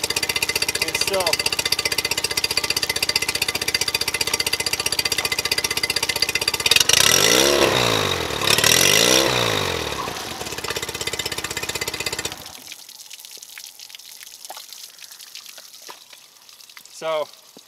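A Mercury 9.9 four-stroke outboard motor runs loud and steady with a rattling buzz and water splashing, its pitch sweeping as it is revved, then dropping to a quieter idle for the last few seconds.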